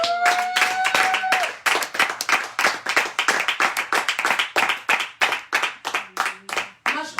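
Congregation clapping in acclaim for Jesus at a church service: dense, rhythmic group handclaps repeating steadily and loudly, with a brief voice at the start.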